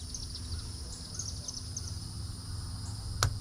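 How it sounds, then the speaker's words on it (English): Katydids chirping outdoors, a steady high-pitched insect chorus of faint repeated chirps held beneath a quiet background, with one sharp brief click near the end. "I hear katydids out there."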